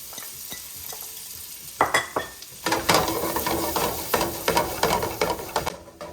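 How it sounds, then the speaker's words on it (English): Onions sauté in butter and olive oil. A faint hiss breaks into a louder sizzle as they hit the pan, then a spoon stirs them in a quick, uneven rhythm. "I've added a little more butter, a little more olive oil, and I'm going to saute my onions now"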